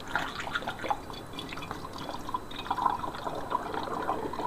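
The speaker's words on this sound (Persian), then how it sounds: "آب قوره رو میریزم داخلش." Homemade verjuice (sour grape juice) poured from a container into a one-litre glass bottle, a steady close trickle with dripping and splashing throughout.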